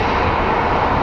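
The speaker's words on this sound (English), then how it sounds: "let's watch this plane pull into its gate" A passenger airplane taxiing to its gate at Phoenix Sky Harbor International Airport, a loud, close, steady engine roar and rush filling the whole moment without any talk.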